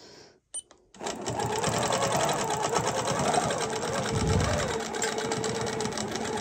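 A sewing machine stitches a quilted feather motif guided by a template ruler, running in a loud, steady rapid mechanical whir after a brief start-and-stop, close and continuous.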